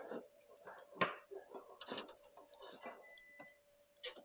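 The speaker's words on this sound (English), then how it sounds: "There, we heard a beep." A short electronic beep from a photo printer rings out near the end, preceded by mechanical clicks and whirring as paper feeds in.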